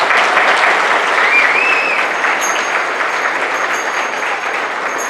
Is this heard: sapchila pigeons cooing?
no